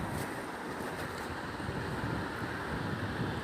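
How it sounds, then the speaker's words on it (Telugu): Strong wind blows across the deck of a cruise ship moving in the middle of the sea, a steady, dense roar of rushing air and microphone buffeting with no break. "ఈ వెదర్ కండిషనల్ కొద్దిగా గాలి ఎక్కువ ఉండడం వల్ల చాలా గాలి వేస్తుంది"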